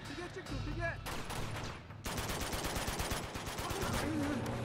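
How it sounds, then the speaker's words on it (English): Enemy gunfire in Uncharted 2: Among Thieves during a siege, with dense overlapping bursts of automatic rifle fire from several shooters rattling continuously, loud and close, barely pausing throughout. "Lots of enemies firing at you at the same time."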